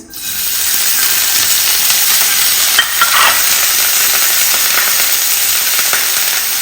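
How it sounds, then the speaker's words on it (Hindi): Onions frying in a little oil while caramelising, a loud steady hissing sizzle with a couple of stirring scrapes partway through. "तो अब मैं करने लगी हूँ प्याज कैरमलाइज। उसके लिए थोड़ा सा ऑयल, उसमें डाले हमने अनियंस,"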